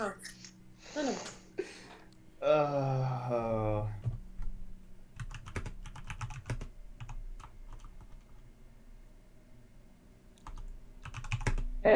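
Rapid clicking of a computer keyboard being typed on by a game master running an online Star Wars tabletop role-playing session, with voices talking over the start before the irregular keystrokes continue on their own.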